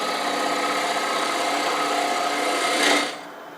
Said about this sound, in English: I'm going to, again, do that with my detail gouge because I find this easier to make this kind of cut